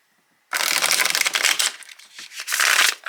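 A US Games tarot card deck is shuffled in a close, loud, riffling burst that starts after a brief silence, with papery flutters and a second surge of card noise near the end.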